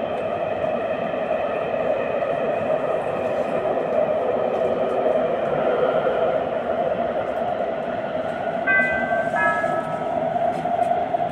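A Skoda Varsovia metro train runs along the Warsaw M1 line, giving a steady, loud rumble of wheels and motors close by, with a brief tonal whine near the end.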